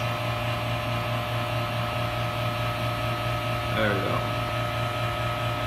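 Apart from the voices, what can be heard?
vacuum pump running on acrylic vacuum chamber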